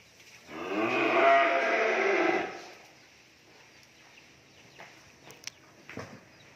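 At a cattle farm, a cow gives one long, loud moo up close, followed by quieter scattered knocks and faint rustling from the pen.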